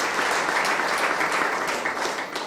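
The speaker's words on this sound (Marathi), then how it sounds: "जोरदार टाळ्या वाजवून" Loud, sustained audience applause at a Dalit federation gathering in Belgaum district, dense clapping filling the hall without a break.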